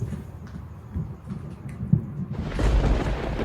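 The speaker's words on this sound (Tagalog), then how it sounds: "kumukulog oh" Low, rolling thunder rumbles through the whole stretch, swelling louder toward the end with a broad roar of rain or wind.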